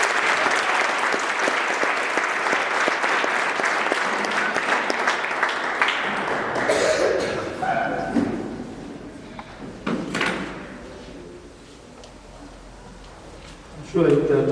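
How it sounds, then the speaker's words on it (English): A school audience applauds a speaker taking the stage at a high school event. The clapping is loud and sustained for several seconds, then tapers off amid shuffling and a few thuds, with talk mixed in. "Can we give him a round of applause?"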